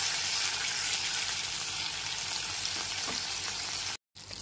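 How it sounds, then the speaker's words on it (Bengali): Cumin seeds, a bay leaf and a dried chili frying in hot oil over lowered gas, a continuous close sizzle with faint stirring and a brief cut to silence near the end. "ফোড়নটাকে গ্যাসটা কমিয়ে হালকা করে ভেজে নেব।"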